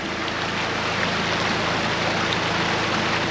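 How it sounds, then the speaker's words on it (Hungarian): Water gushes steadily out of a John Deere tractor, a loud continuous rushing wash with a faint low mechanical hum beneath, close by and unbroken, with no talk. "Ömlik lefele a víz."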